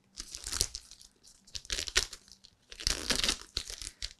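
The packaging of an Atlantic 75 Series vinyl record is opened up close, with bursts of crinkling, tearing plastic and crunching in uneven clusters and short pauses between them.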